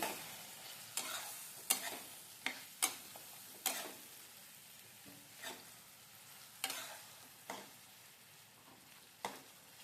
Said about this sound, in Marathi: थोडा मसाला चांगला भाजून घ्यायचा आहे